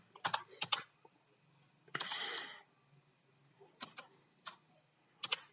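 Code being typed on a computer keyboard, heard as short bursts of close, crisp key clicks with pauses between them and one longer rapid run of keystrokes.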